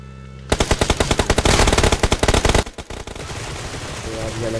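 Rapid bursts of automatic gunfire from a BGMI battle, loud and close, a dense rattling volley that runs for about two seconds, then stops abruptly and gives way to quieter in-game background noise.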